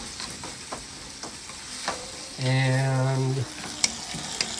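Kung Pao shrimp folded into sauce and cooking down in a pan, with a continuous close sizzle, stirring scrapes and light clinks, plus a short tonal hum partway through; no speech.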